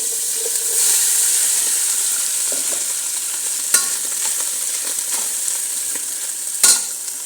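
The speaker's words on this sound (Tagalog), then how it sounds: "So, i-on na natin yung gisa ng chicken." Chicken sautés in a pan for spring rolls with a steady, close sizzle and hiss, broken by occasional clinks and scrapes of a utensil stirring.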